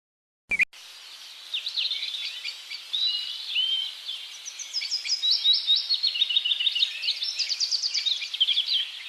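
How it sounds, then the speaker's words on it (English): Birds sing outdoors in a continuous stream of bright, rapid chirps and trills, moderately loud and without voices, after a brief click at the start. "What a beautiful day with the birds singing."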